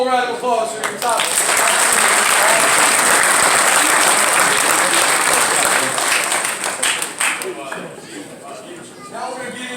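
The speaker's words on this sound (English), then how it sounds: "one more round of applause for your top." A second round of loud crowd applause at an Exos camp awards ceremony for the top high school team, steady dense clapping with a few cheers, tapering off near the close.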